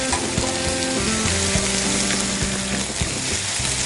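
Minced garlic sizzles steadily in hot oil while vegetables stir-fry, a constant close crackle with light scraping and clicking of the pan underneath.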